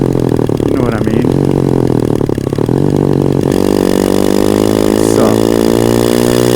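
A motorcycle engine revs hard and passes at full throttle, loud and close, with the roar shifting in pitch as it goes by; voices talk over it throughout.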